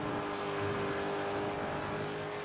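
Race car engine in a racing video game, a continuous droning hum holding a steady pitch under a faint high whine, with no voices over it.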